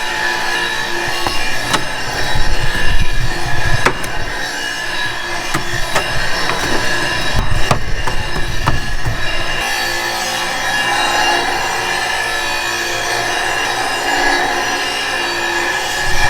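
Scraping debris off lawnmower blades with a hand tool before sharpening, giving a run of close, uneven rasping and knocking strokes that turns into a steadier grinding rub partway through, with no talking.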